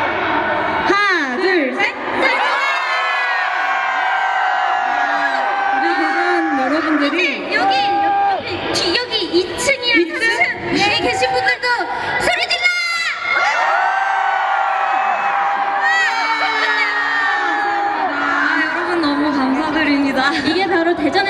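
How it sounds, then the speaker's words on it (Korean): A concert crowd in Daejeon cheers and shouts loudly at an outdoor event, many voices screaming together in waves for about twenty seconds, with a host's voice cutting in briefly. "이게 바로 대전의 함성 소리군요."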